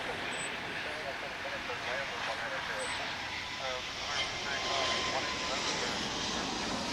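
An American Airlines Boeing 777 arriving at DFW gives a continuous, moderately distant jet roar with rising and falling whine, while a person talks over it in places.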